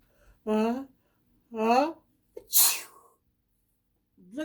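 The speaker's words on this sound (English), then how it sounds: "pretend I'm going to sneeze, and I'm going to sneeze onto this board" A person gives an exaggerated sneeze, two drawn-out rising inhales followed by a sharp burst, close and fairly loud.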